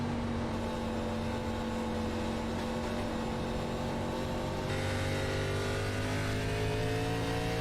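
A race car engine at a Grand National Series race at New Hampshire holds a loud, sustained drone, its pitch sliding and wavering as the driver feathers the throttle through a turn on worn tires, with no voices.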